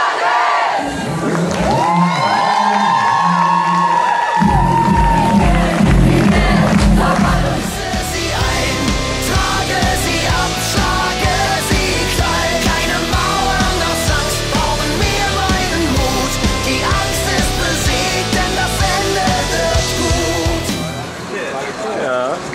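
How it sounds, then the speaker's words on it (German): A live concert crowd for a band roars with sustained cheering, whoops and shouts, loud and close, with the noise filling the space continuously, then a brief lull near the end. "Dein Applaus, dein Szenenapplaus."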